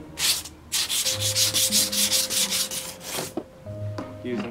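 Wood being sanded by hand with 80 grit sandpaper, giving brisk, rhythmic scratchy strokes close up, with a brief pause and a faint voice and tonal hum in the background.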